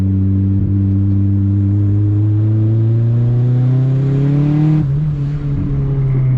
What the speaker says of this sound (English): so we'll downshift, give it a little more RPM and see what it does here